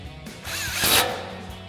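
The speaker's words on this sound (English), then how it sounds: "we'll tighten that back down with our 12 mil socket on our impact" Short whirring burst from an impact wrench with a 12 mm socket driving a bolt back down on an off-road vehicle's front upper control arm, close and fairly loud, rising then tapering off.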